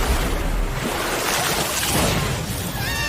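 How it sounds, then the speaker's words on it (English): Anime water-pillar magic spell effect: a loud, sustained rushing, surging water roar that fills the whole moment without pause, with no talking over it. "Water pillar."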